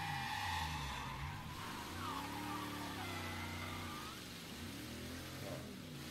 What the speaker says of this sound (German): Jetzt versuche ich gerade, die Karre etwas besser unter Kontrolle zu haben.